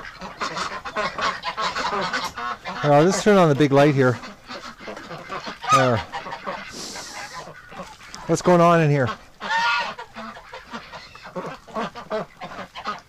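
Ducks and geese kept indoors during extreme winter cold honk and quack loudly in repeated bursts, and a person talks between the calls.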